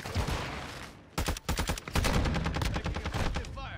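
Call of Duty gunfire in a multiplayer match, rapid automatic bursts of shots crackling loud and close after a brief lull, sustained volleys through the rest.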